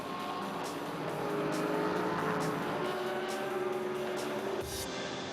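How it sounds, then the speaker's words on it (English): Race cars including a Ford GT roar around a track in a steady, loud engine drone, with repeated brief passes and gear-shift bursts layered over continuous noise, no talking. "it's hard to sleep when some of the fastest cars in the world are jockeying for position just feet away"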